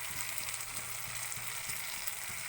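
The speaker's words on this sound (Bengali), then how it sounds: "এবার এর মধ্যে আমি আদা থেতো করে রেখেছিলাম, সেই আদা থেতোটা এর মধ্যে আমি দিয়ে দিচ্ছি।" Crushed ginger goes into hot oil with fried duck eggs, and a steady, moderately quiet sizzle crackles close by with no talk.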